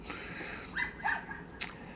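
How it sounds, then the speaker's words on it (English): Neighborhood dogs bark in the distance, a few faint, scattered yips and barks outdoors over a quiet background, with one sharper bark near the end. "I'm very aware of the dogs in the neighborhood having a conversation."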